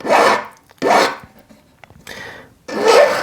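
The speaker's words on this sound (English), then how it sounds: "let's just carry on filing. Let's just take this back plate down" A metal hand file rasps over the back plate of a bezel setting at a jeweller's bench in four strong, close strokes with short pauses between, each a loud gritty scrape.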